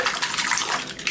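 A Philips RQ12 shaver head is shaken in warm water, giving a brief, loud burst of splashing and sloshing.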